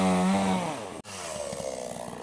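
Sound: chainsaw cutting wood

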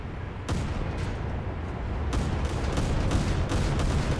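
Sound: naval gunfire from video game

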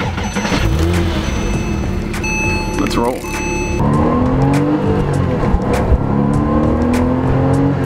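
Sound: Porsche Cayman race car engine revving

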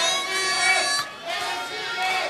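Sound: crowd cheering at Korakuen Hall for wrestler ACH

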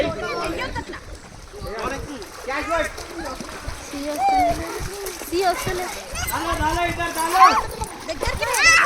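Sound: water splashing with children playing

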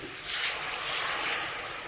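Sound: rinsing the grinder jar and pouring water into the pan

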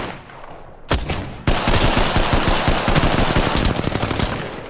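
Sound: gunfire in Apex Legends video game

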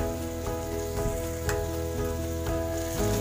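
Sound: chopped onions frying in oil with curry leaves

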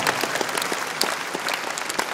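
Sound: audience applause at a convention

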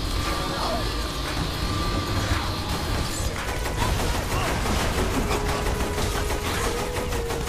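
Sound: gunfire in Saints Row The Third video game

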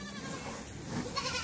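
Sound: goats bleating on a goat farm

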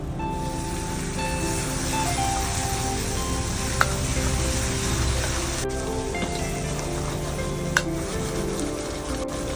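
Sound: onions with ginger garlic paste sizzling while sautéing

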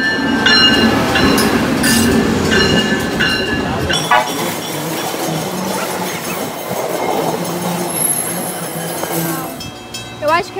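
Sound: train approaching the station

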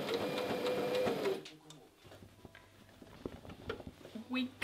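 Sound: sewing machine sewing apron pockets

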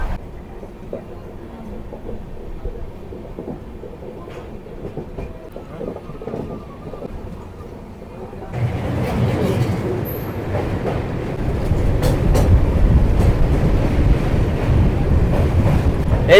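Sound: new Howrah to Digha LHB passenger train running

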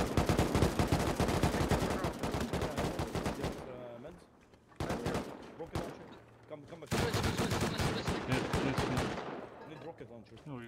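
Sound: gunfire in the video game Rust

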